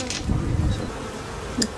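A low, steady buzzing of honeybees in an observation beehive around the listener, with a couple of brief higher sounds breaking through.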